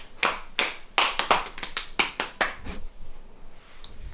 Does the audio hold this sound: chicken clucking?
no